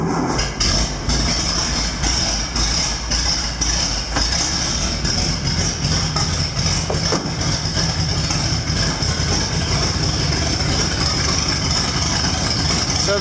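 A cold engine idles with the choke pulled on, running rough on about four cylinders, a steady loud low rumble with a constant high whine, unbroken throughout.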